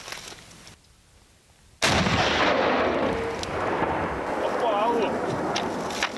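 A heavy weapon fires once with a deep, booming blast during a military shooting exercise in Russia's Arkhangelsk region, the roar rolling on and echoing for several seconds after a brief quiet lull and a shouted command.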